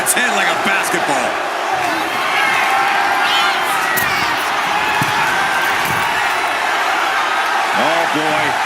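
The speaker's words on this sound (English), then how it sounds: "I think the crowd knows what's coming." An arena crowd in the wrestling game WWE 2K25 cheers and roars continuously, with bursts of shouting and impact thuds from the ring, loud and close throughout.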